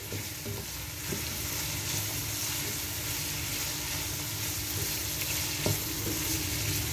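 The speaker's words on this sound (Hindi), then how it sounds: "इसको भी हम अच्छी तरह से सौते कर लेंगे" Chicken white pasta sautés in a pan, producing a steady, close frying sizzle broken by occasional faint clicks of stirring.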